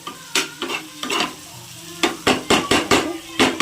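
A masher pressing and stirring frying sandwich filling in a pan, a steady sizzle broken by repeated scraping, squelching strokes, close and loud, with quicker strokes toward the end.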